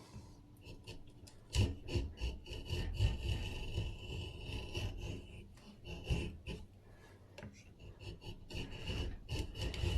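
A wooden internal brace is trimmed down and profiled by hand, giving steady, close rasping saw strokes in an uneven rhythm with occasional louder scrapes, heard alone without talk.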